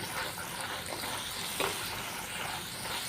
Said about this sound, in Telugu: ఇప్పుడు ఈ తాలింపులోకి మనం రుబ్బి పెట్టుకున్న ఈ ఉల్లి కారం అనేది ఇందులో యాడ్ చేసుకుందామండి